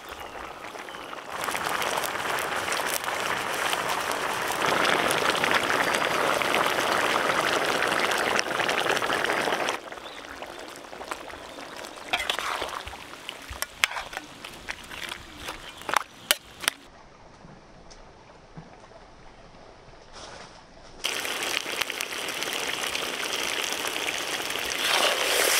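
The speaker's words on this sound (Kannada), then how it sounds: "ಮಟನ್ ಚೆನ್ನಾಗಿ ಕುದೀತಾ ಇದೆ." Mutton for palak mutton sizzling and bubbling in a pot without added water, a dense crackling hiss that cuts out, gives way to a few clatters and quieter stretches, then resumes loudly.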